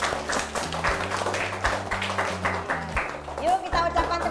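Schoolchildren in an elementary classroom clap together for their headmistress, a dense, steady patter of many hands at close range, mixed with voices talking throughout.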